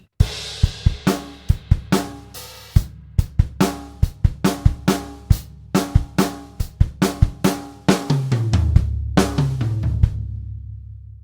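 Drum kit playing bars 14 to 17 of a Trinity Grade 3 piece, a steady run of sharp close hits with cymbal wash, ending in a busier fill of descending tom strokes that rings out.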